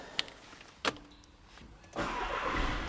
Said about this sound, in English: and I'll start the car up.